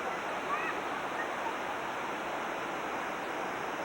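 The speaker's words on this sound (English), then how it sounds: "We are now at the waterfall." A waterfall in Arkansas roars as a steady, even rush of falling water, a continuous wash of noise that stays constant from start to finish with no breaks.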